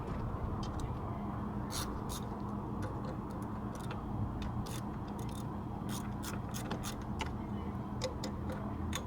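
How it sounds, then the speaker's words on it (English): A ratchet wrench with a 10mm socket working loose the muffler bolts on a scooter, a fast string of light clicking ticks over a dense, steady mechanical noise, close and without talk. "Loosen the muffler bolts, and you're going to use a 10mm socket."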